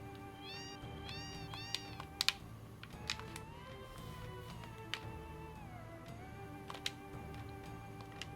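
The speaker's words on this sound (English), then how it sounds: "These damn cats everywhere." Cats meowing in the Final Fantasy VII video game, several repeated mews and one long drawn-out call among scattered clicks, fairly quiet and with no talk.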